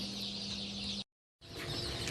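Many newly hatched chicks peep in a dense, high-pitched chorus over a low incubator hum, cut off by a brief silence midway.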